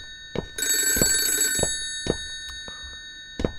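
A telephone bell rings in loud repeated bursts inside the ALONE horror video game, with scattered thuds and footsteps between the rings and steady tones underneath.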